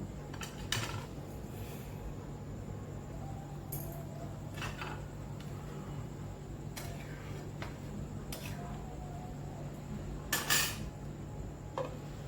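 A lid goes onto a pot of simmering egg curry with a few brief metallic clanks, spaced seconds apart. A steady low background hum runs throughout, and there is no speech.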